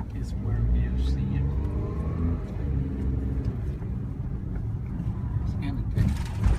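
A three-wheel motorcycle's engine revs and drones steadily close by, rising slightly in pitch at moments, with people talking over it throughout.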